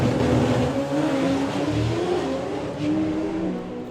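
A drag racing car launches hard down a straight track at a festival of power meet, its engine roaring loud and sustained with rising harmonic tones throughout, heard close and alone.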